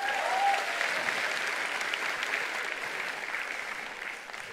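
Audience applause after a talk on Indonesia's economic potential fills the clip with dense, steady clapping, loud at first and tapering off slightly toward the end, with no voices over it.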